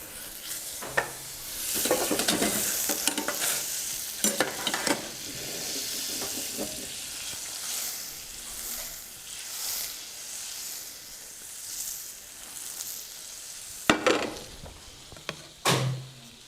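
Butter melting and sizzling in a pan before garlic goes in, for a lamb rib roll dish: a continuous hiss with several spatula scrapes and a few louder clatters near the end, close up.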